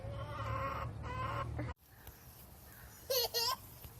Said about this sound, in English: You see some chickens in there?